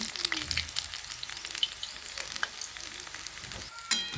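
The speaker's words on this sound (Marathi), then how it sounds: "मस्त असं भजी तळायला लागली आई" Bhaji fritters frying in hot oil, a steady crackling sizzle with bright bubbling bursts throughout, close up and continuous, with no voices.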